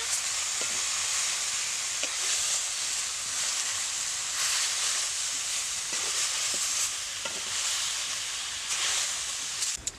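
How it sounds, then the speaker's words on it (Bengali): Crushed elephant apple (chalta) frying with spices for a sweet-sour pickle, a loud continuous hiss and sizzle with faint stirring clicks throughout, close up and without talk. "চালতাটা আমার একটু ভাজা ভাজা হয়ে গেছে"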